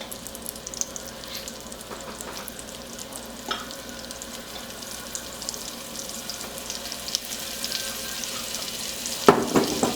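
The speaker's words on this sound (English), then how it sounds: "we're going to make a little roux by adding 2 tablespoons of flour to this." Flour sizzles in melted butter as a roux is stirred for lobster thermidor, a steady close frying hiss with faint stirring scrapes and a sharp clink near the end.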